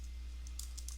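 A few short, soft computer mouse clicks sound near the end while someone works in video titling software, set against a steady low electrical hum.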